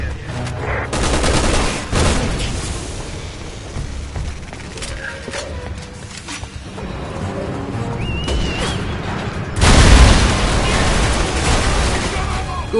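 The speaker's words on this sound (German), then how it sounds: "Guter Schuss, Pierce." Bursts of rapid gunfire and heavy booms crackle through a dense Resident Evil 6 game soundscape, with German voices speaking over the action and a loud blast near the end.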